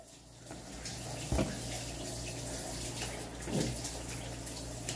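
Water pours steadily from a new shower, a continuous close hiss of spray with a couple of brief louder splashes, no one speaking over it.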